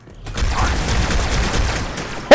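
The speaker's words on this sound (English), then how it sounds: "Where are the explosions coming from?" Gunfire and explosions from the video game Halo 2, a dense continuous barrage of rapid shots and booms at steady loudness, ending in a sharp loud burst.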